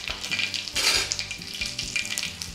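Mustard seeds, cumin and asafoetida sizzling in hot oil in a tawa pan, a dense crackling hiss with popping bursts, loudest early on and then settling into a steady fry.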